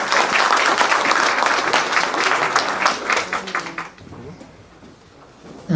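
An indoor audience at a Simi Valley ceremony applauds the Jing family, dense sustained clapping filling the room for about four seconds before fading into quiet room tone.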